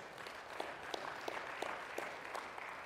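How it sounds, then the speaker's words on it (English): A church congregation claps in praise during a sermon, a steady wash of many hands with a few sharper individual claps standing out, moderately soft and with no voice over it. "Give him a hand clap of praise."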